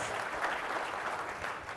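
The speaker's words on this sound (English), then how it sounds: "Give Beth a big round of applause" An audience at a play equity summit panel applauds steadily, a dense, even wash of clapping from a crowd filling the whole moment at moderate loudness.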